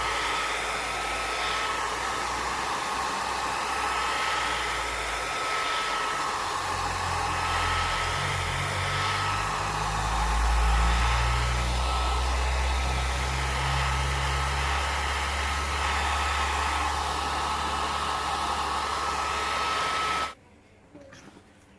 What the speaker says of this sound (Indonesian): saya guna hair dryer ya untuk memanaskan LCD ini